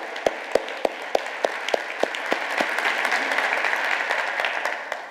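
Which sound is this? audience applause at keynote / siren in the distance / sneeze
audience applause at keynote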